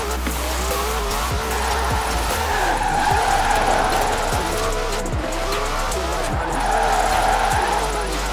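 Tyres skidding and squealing in Forza Horizon 4, a racing video game, over a loud continuous engine roar, with repeated swooping squeals through the whole stretch.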